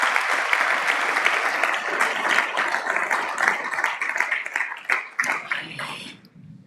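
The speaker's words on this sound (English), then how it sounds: "ask again for a big round of applause for Yanire and Niker from Kabiezes Arrizulat" A conference audience in Bilbao claps in a dense, sustained round of applause that thins out into scattered claps before ending, with no talking.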